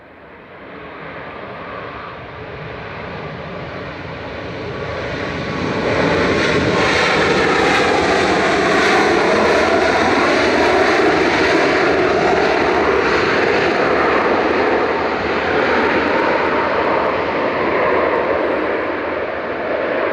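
Malta Air jet airliner passing at Manchester Airport, a loud roaring engine rumble that swells and holds for long seconds, close and dominant with no voices over it.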